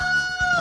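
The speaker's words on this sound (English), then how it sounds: "Get that rooster out of here!" A rooster crows once, loud and close, a short tonal call with a clucking break partway through, as a sound effect on a tech talk show.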